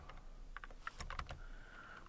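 Computer keyboard keys are pressed in a short, irregular burst of clicks. They sound quiet and close, with no talking.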